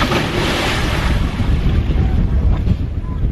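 Loud wind buffeting the microphone at sea, a steady roaring rush with water sounds beneath it.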